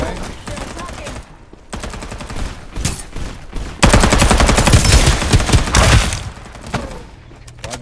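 Gunfire and artillery in the battle royale video game Farlight 84, with loud rapid automatic bursts broken by short pauses and a dense, sustained barrage in the middle.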